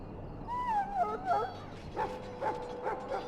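A sick Mabari war hound in the Dragon Age Origins video game, poisoned by Darkspawn blood, gives a run of high wavering whimpers and whines, then a few short repeated whining yelps, moderately loud over a low background hum.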